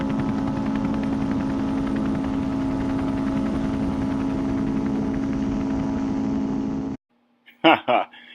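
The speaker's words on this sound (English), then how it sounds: "That was so cool to watch him fly by." A helicopter roars past in a loud, steady, throbbing drone for about seven seconds, then cuts off abruptly before a brief voice is heard.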